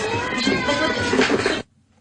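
A loud, dense chorus of many cats meowing and yowling at once, then cutting off abruptly.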